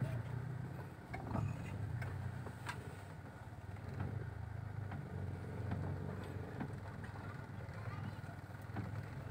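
A car accelerates slowly with a low, steady engine hum under faint road noise, close and continuous throughout.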